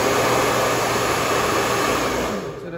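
A hair dryer blows with a steady, loud whooshing roar and a faint high whine, easing off slightly at the very end.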